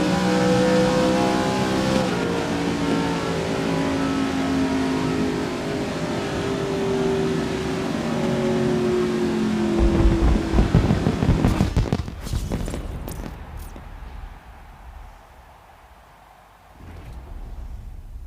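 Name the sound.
Holden Commodore engine revving and accelerating in video game GRID 2019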